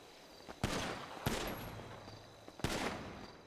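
Three loud pistol shots at a police academy firing range in the game GTA, spaced about a second apart, each a sharp crack with a short decaying tail over quiet background.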